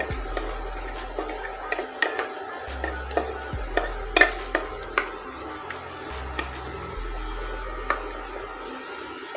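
Moong dal halwa ingredients fry in a pan, a soft sizzle running under a dozen or so sharp utensil clinks and scrapes from steady stirring, with no talking.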